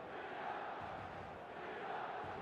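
Stadium crowd in an eFootball match, a faint, steady wash of distant roaring and chanting voices with no distinct peaks, low in level throughout.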